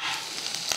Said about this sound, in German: Gebe die Kichererbsen hinzu. So, jetzt kurz anbraten.